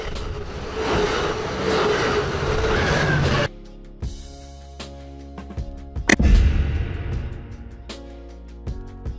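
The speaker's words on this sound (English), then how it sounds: "Commuter train." A commuter train running between city and suburbs, a dense steady rumble with rhythmic clatter for several seconds that drops off into quieter track clicks and intermittent squeaks and knocks.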